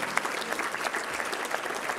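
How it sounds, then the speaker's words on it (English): Steady audience applause fills a football awards banquet hall, many hands clapping in a dense, even wash that holds at moderate volume throughout, with no voices standing out. "One more round of applause for all of our MVPs,"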